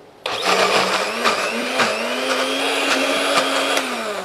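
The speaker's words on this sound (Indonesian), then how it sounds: "kita blender lagi" A blender whirs loudly as it purées basil pesto sauce. The motor kicks in abruptly and runs steadily and close, with small shifts in pitch as the contents churn.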